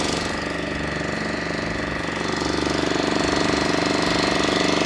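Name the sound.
boat engine running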